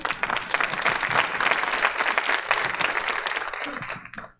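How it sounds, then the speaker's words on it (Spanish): An audience breaks into brisk, dense applause that stays fairly loud for about four seconds, then quickly tapers off to silence. "Muy bien, le damos un aplauso a Claudita."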